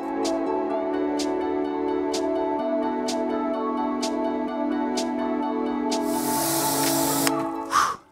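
Rinse water sprays in a short, hissing burst onto a trail dirt bike being washed after an off-road ride. It comes near the end, over steady background music.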